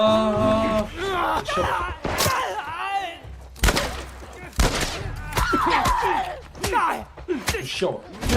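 Gunfire in The Last of Us, sharp bursts and single shots mixed with impacts, heard under frequent voices and in-game speech.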